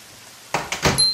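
A door opens with a few quick clunks and a creaking rattle, close and fairly loud, ending in a short metallic squeak.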